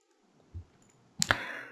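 A computer mouse clicks while the Alt key is held down: a faint tap early on, then a couple of sharp, close clicks in quick succession in a quiet room.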